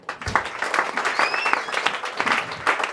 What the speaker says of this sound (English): Give Jesus a better clap.